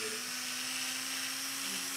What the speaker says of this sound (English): You kind of take your drill and kind of lightly move it around a little bit.